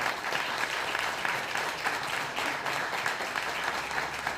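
An audience at an Argentine public talk on social rights and youth justice claps for a guest, a sustained, even patter of many hands filling the room at moderate loudness.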